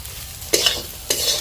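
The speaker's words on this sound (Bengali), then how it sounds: "আর এখানে আমি সোয়াবিনটা ভেজে নিচ্ছি" Soybean chunks fry and get stirred in a pan in a small, hot home kitchen, giving two short bursts of scraping sizzle over a low background hiss, with no talking.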